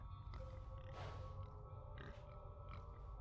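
A few soft, low piglet grunts and snorts from the video game RuneScape 3 sound over a quiet, steady background hum.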